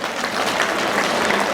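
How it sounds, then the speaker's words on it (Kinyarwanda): A crowd claps steadily and densely at a school education-day celebration held at a cathedral parish, a continuous loud wash of applause throughout. "Tubahe amashyi menshi n'impundu."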